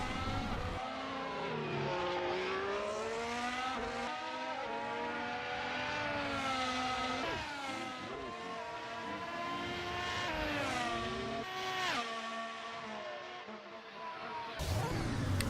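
A 2018 McLaren Formula 1 car in the Assetto Corsa racing game howls through rising and falling engine revs with repeated gear shifts, a steady, loud high-pitched scream throughout the Australian Grand Prix session.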